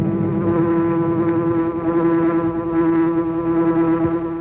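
A sustained insect-like buzzing drone, loud and steady, opens a Green Hornet radio show, imitating a hornet in flight, alone without talk.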